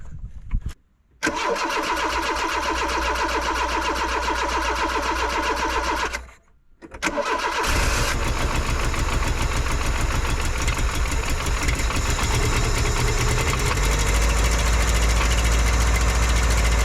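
A Peugeot 205 with a stock 1.4-litre 75 hp engine, badly out of ignition timing, cranks twice with short pauses, then catches and runs roughly and loudly, the idle uneven and knocking, with no talk.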